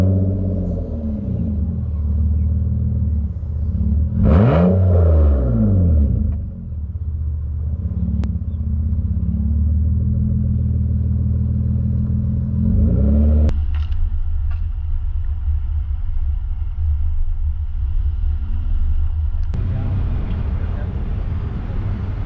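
A 2017 Nissan Murano engine cranks over, then rumbles at idle and rises into a steady rev, with a close, continuous low drone that shifts tone partway through.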